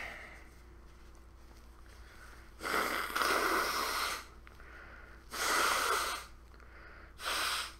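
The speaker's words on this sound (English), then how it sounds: "Okay, I need to blow my nose real quick." A person blows their nose in three separate honking bursts, each one or two seconds long, loud and close, with quiet pauses between them.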